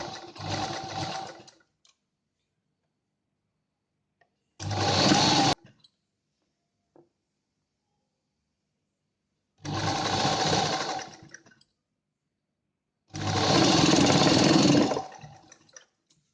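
Sewing machine running in four separate bursts as kurta fabric is stitched in a doubled-over seam, each run a steady whirring stitch of one to two seconds, close and fairly loud, with silent pauses between.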